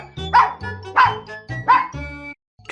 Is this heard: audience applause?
no